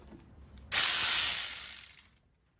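A small cordless ratchet runs in one loud continuous whir for over a second as it drives a bolt down, then tapers off with a few quick clicks as the fastener bottoms out, with no talk.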